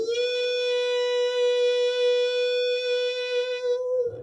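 A single sustained electric guitar note, a long held bend in a solo, held for about four seconds with a gentle vibrato wobble, clean and close with nothing else playing.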